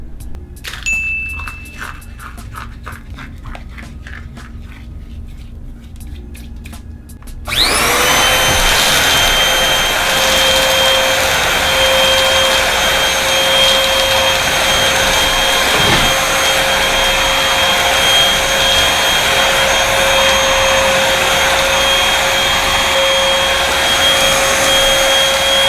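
A cheap upright vacuum cleaner switches on after some faint tinkling handling noises, then runs loud and steady on carpet with a constant whine and whoosh, close by.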